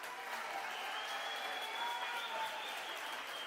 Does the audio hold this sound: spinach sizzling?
no